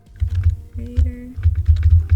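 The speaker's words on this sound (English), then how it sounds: "Let me type it in chat." Bursts of keyboard typing in uneven clusters of keystrokes, sitting over a low steady hum with a faint tonal whine midway; close and moderately loud, no talking.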